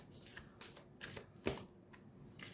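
Tarot cards shuffled and one drawn, soft papery riffles and slides in short bursts with one sharper snap near the middle, faint and close, no voices.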